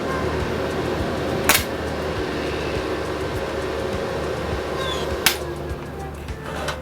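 A Harbor Freight wire welder lays a bead on exhaust tubing, making a steady, dense crackling hiss for several seconds, broken by two sharp snaps.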